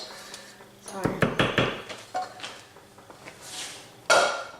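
A long-used Pyrex glass baking dish is handled on a kitchen counter, giving a quick cluster of hard knocks and clunks, then a single bright glassy clink, with someone talking over it.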